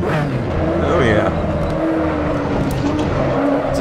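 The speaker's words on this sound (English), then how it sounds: "Just love hearing that engine bark when you downshift." Mazda 787B race car in the Assetto Corsa video game, its engine roaring loudly and barking through downshifts with some tire squeal, continuous and close throughout, while someone talks over it.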